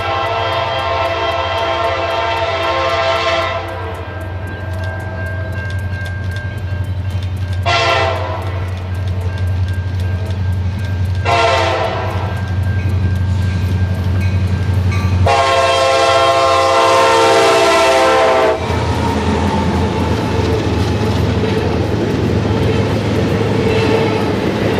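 A CN intermodal freight train rolls past with a loud, close rumble of cars throughout, broken by several long horn blasts, the last and longest near the middle before the roar continues.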